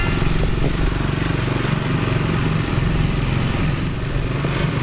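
Motorcycle engine rumbling steadily and close throughout while riding along a forest road in Croatia, a continuous low droning hum with no talk.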